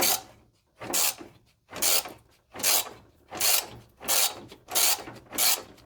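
A ratchet loosens shroud mounts on a 1997 Jeep Grand Cherokee ZJ engine with eight evenly spaced rasping, clicking strokes. Each stroke lasts about half a second, close and loud, with short quiet gaps between them.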